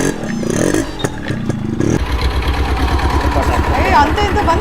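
A tractor engine chugs with a fast, regular knocking pulse that grows steady after a rattling, clattering start, close and loud, while someone talks over it.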